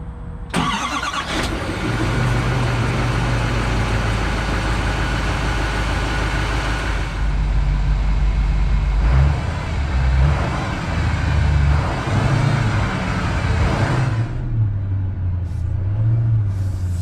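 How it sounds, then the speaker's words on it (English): A Chevrolet Silverado 3500HD dually with a Duramax diesel engine rumbles low and steady while driving, a loud continuous drone that swells as it accelerates, with no talking. "It's a diesel. It sounds like a diesel, but it's quiet."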